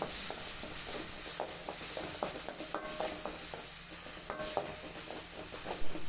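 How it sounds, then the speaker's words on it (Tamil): Rasam spice mix frying in oil in a pan, a soft continuous sizzle under repeated scraping stirs of a spoon, with occasional light metallic clinks against the pan. "எண்ணெயில் இந்த மிக்ஸை போட்டு நம்ம வதக்கும் போது"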